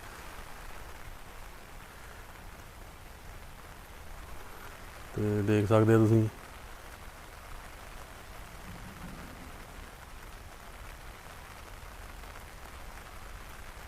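Rain falls on flooded farmland in Punjab, a steady, even hiss running throughout, with a voice speaking briefly near the middle.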